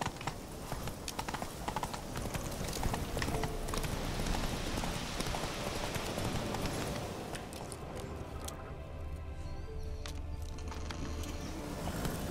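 Hooves of Roach, Geralt's horse in The Witcher 3: Wild Hunt, a steady galloping clip-clop close by that runs throughout, with rustling and game ambience layered over it.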